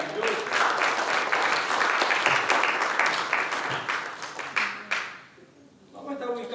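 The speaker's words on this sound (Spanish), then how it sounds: "Denle un fuerte aplauso a ese Dios maravilloso." Sustained applause from a church congregation at a Sunday service, dense and loud for about five seconds before thinning out, with a few voices and faint music continuing afterward.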